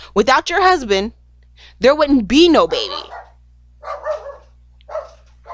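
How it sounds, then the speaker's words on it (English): Dogs barking in a home in the background, with several short yappy barks that come and go under a woman's loud speech. "Sorry if you can hear my dogs barking in the background"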